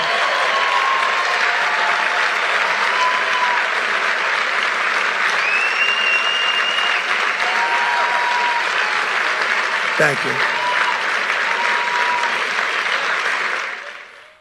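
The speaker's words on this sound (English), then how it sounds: "there he is, huge applause" A large audience applauds loudly and steadily, a dense wash of clapping that holds for over ten seconds before tapering off, with a brief spoken thanks heard partway through.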